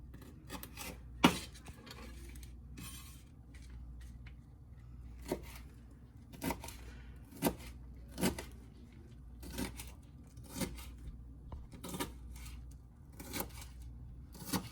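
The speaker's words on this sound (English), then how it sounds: "we're going to cut our pepper. Let me cut this down." A knife cuts a pepper on a board in a home kitchen, giving a series of crisp, close chopping strikes spaced irregularly over a faint background hiss, with no talking.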